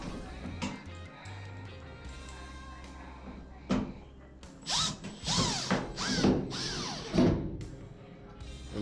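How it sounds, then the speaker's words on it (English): Phillips screws being driven with a screwdriver into the top panel of a Samsung DV42H5000EW dryer, heard as close ratcheting clicks and whirring turns that come in short bursts, with some speech mixed in. "install our two Phillips screws that holds the top panel in place"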